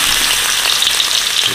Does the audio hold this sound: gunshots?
no